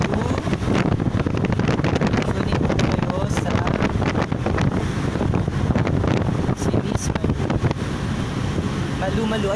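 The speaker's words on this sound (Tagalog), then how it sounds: "Malakas lang ang hangin." Strong wind buffets the microphone outdoors in Barangay Ana, Santa Cruz, a loud, continuous roaring rumble with gusty bursts that runs through the whole stretch, with voices faintly underneath.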